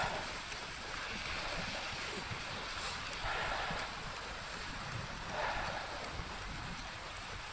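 Steady wind roars outdoors in freezing cold around a bicycle rider, a broad continuous rush with gusts swelling and easing, close to the microphone and without voices.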